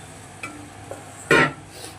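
A splash of water hits sizzling masala with loitta fish in a hot pan, making one short, sharp hiss. Faint stirring scrapes come before it, and no voices are heard.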